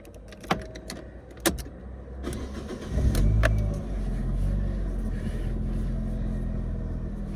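A 2009 Ford Ka with an MOT failure is started: key jangles and clicks, a short cranking burst, then the engine catches and settles into a steady idle.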